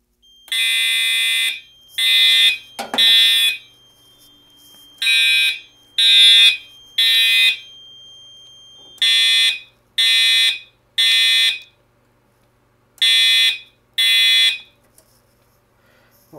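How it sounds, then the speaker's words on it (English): Notifier AFP-200 fire alarm system in full alarm during a test. The loud, shrill electronic horn blares in repeated groups of three short blasts, each group separated by a brief pause. "we have surpassed. We'll be going into alarm."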